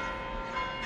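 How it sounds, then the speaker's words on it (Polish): Church-style bells ring from the Leaning Tower of Niles replica, a tilted outdoor bell tower, sounding as a brief steady tone with sustained ringing overtones and no talking. "Jeszcze raz wam pokażę taką piękną dzwoniącą wieżę"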